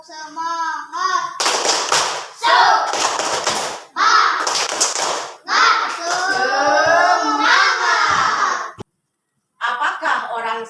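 Schoolchildren in a classroom lesson clap a rhythmic group chant, bursts of sharp claps alternating with their loud chanted voices, ending with a brief pause and a last few claps.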